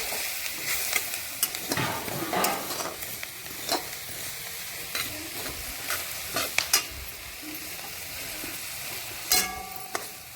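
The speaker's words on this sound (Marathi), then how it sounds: "खसखस आता भाजलेली आहे." Poppy seeds roasting in a pan while spices for red chilli chutney are prepared, a soft dry sizzle under irregular scraping stirs and a few sharp clinks of the utensil.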